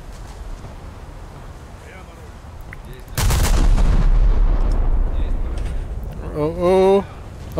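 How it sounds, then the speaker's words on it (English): Naval guns firing in War Thunder, a naval battle at sea: a sudden loud boom at mid-clip followed by a sustained heavy roar of gunfire and rumble, with brief tonal whine near the end, over faint background talk. "then we will open fire with our guns"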